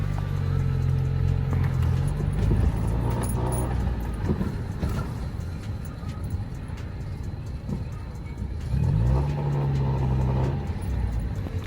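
A small car drives along a road with a steady engine hum and tire noise, the low tone rising and falling as it speeds up and slows, with no talk over it.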